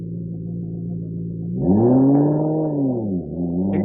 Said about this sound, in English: Incredibly, it accelerates away even faster than the Jaguar, feeling more like a thoroughbred racing car than something to be used on the public road